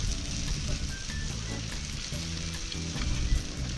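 Sausages frying in oil in a pan at a campground, a steady crackling sizzle with irregular pops and spits, close and continuous, with no talking.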